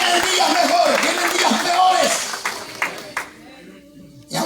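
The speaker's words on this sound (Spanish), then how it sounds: "Fuerte ese aplauso." Church congregation clapping loudly for a few seconds in a sermon setting, with voices and cheering mixed in before it thins out and fades near the end.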